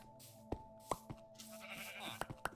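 Several short sheep bleats and clicks from a video game, spaced irregularly over a steady low background hum.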